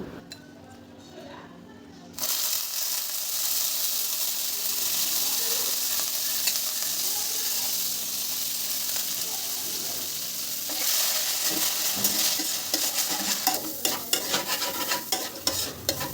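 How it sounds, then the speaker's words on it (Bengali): Washed mung dal fries in hot mustard oil while being stirred, a loud, sustained sizzle with scraping stir strokes and occasional metallic clinks building toward the end. "আমি মুগের ডালটা আগে থেকে একটু ধুয়ে রেখেছি, সেইটা এখন তেলের মধ্যে দিয়ে একটু ভেজে নেব।"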